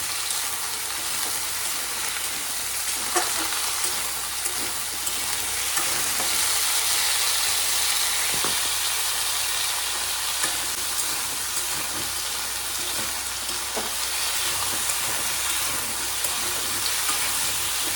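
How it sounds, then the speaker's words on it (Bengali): Cut hog plum (amra) frying in a wok, a continuous even sizzle and hiss with occasional faint clinks, held at a steady level throughout. "হালকা একটু ভাজা করে নেব আমড়াটাকে"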